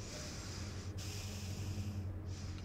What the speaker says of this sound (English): So much heavy breathing